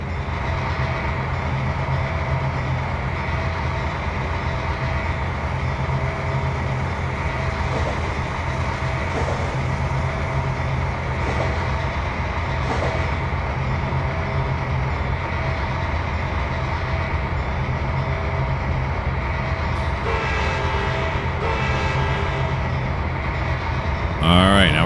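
A train is shunted in Trainz 2022 and eased up against a BNSF car. It makes a steady, continuous rumble of rolling wheels with faint clanks and a brief sharper rattle near the end.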